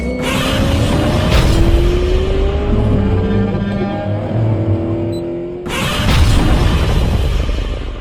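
A Honda Civic FL5 Type R with a Milltek exhaust revs hard close by, engine note rising and holding before a sharp cutoff, then a second loud burst of exhaust roar.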